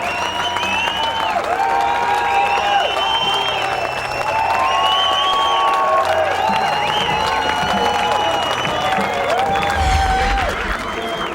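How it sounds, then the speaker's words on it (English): A crowd cheers and applauds at a 1999 Gravity Games BMX dirt event after a backflip run, a broad roar carried under a commentator's voice with music tones over it. "But listen to that crowd"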